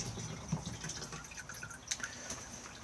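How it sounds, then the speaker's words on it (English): Cassette toilet being flushed in a Benimar Mileo 286 motorhome, a thin trickle of water with light drips and splashes for a few seconds, close and fairly quiet. "the blue button here will flush it"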